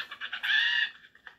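Chicken in the video game Lego Fortnite gives a short burst of bright clucking, a few quick notes swelling into one drawn-out call, close and alone.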